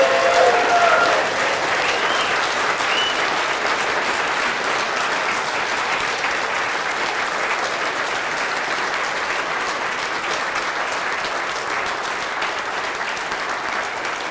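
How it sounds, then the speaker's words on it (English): An audience applauds at the closing plenary of a BSDCan 2013 conference, a dense steady wash of clapping from a large room that holds for the whole stretch, fading only slightly and never breaking. "Round of applause for Dan"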